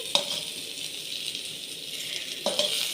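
Cauliflower frying in a pan in a home kitchen: a steady, fairly close sizzling hiss runs throughout, with two short clinks of stirring near the start and end.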